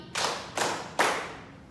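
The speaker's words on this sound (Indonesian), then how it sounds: "tepuk 3 kali" A classroom group claps together three times in unison, each sharp, loud clap evenly spaced and ringing briefly before fading.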